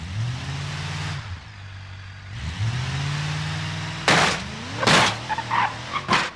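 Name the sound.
truck driving in BeamNG video game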